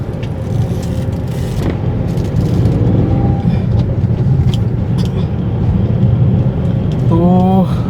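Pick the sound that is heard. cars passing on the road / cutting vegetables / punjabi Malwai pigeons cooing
cars passing on the road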